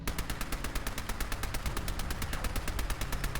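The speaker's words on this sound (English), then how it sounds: "we're going to take a look at the 10mm submachine gun first" Rapid, evenly spaced automatic fire from a 10mm submachine gun in Fallout 4, a steady loud burst of shots running continuously throughout.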